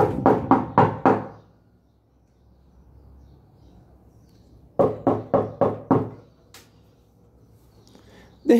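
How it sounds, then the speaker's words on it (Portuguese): Knuckles rap on a door in two bursts of five sharp, rhythmic knocks separated by a quiet pause. The knocks are loud and close, and another knock begins right at the end. "ele bate na porta"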